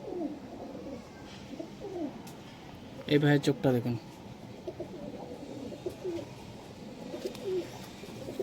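A male Teddy pigeon from a breeding pair coos in short murmuring bursts, loudest midway, while someone talks steadily nearby.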